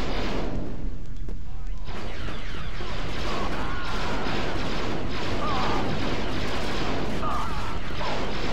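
Heavy weapon fire from an overpowered gun in Star Wars Battlefront 2, a dense, continuous barrage of booming blasts and crackling shots filling the whole clip at steady high loudness.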